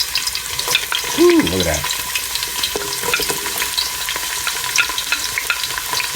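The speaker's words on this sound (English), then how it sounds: "So we're going to add our onion to a nice hot pan." Onion sautéing in a hot pan for a traditional Italian escarole and beans dish, a steady close sizzle and stirring throughout, with a brief remark from a voice near the start.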